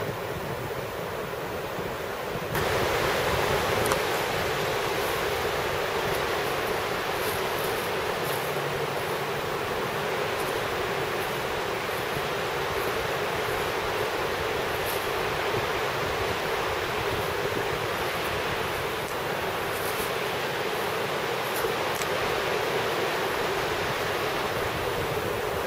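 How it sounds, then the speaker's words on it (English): The Niagara River rushes powerfully through the Niagara Glen on an autumn day, a steady, loud roar of fast-moving water that continues without a break. "Down by the Niagara River. What a powerful sight. That water is really moving."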